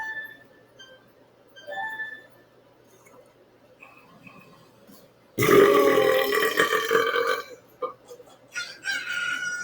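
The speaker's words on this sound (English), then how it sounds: "About to make another belching video playing Zelda Majora's Mask." Loud, drawn-out belches burst out one after another during a Zelda Majora's Mask session, close and raspy, with quieter game sounds and chimes in the gaps before and between them.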